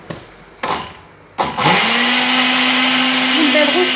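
After a few short knocks and handling noises, an electric mixer starts up and whines steadily at close range, beating lemon cake batter made with oil and yogurt, a loud continuous motor drone.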